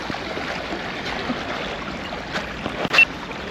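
River water rushes and burbles around a person wading in it while fly fishing, a steady broadband flow with a few small splashes and a brief knock near the end.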